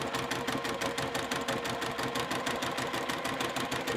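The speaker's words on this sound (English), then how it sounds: "I'm just going to start at the very edge and then sew along all the way to the bottom" A sewing machine runs fast and steady, stitching fabric pieces for candy corn coasters with confetti thread, its needle giving a rapid even chatter, close up and without talk.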